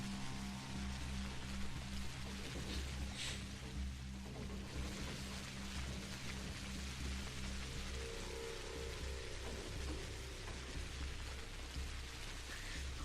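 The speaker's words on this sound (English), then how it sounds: "Hope you guys like the sound of the rain" Steady rain falls continuously in the video game Pathologic Classic HD, a dense, even hiss of drops on surfaces, with low droning music underneath and no talking.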